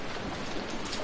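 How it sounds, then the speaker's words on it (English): Steady rain falling at night in the zombie game Dying Light, a dense even hiss of drops with a soft low rumble underneath, close and continuous without talk. "So it's night time, it's raining."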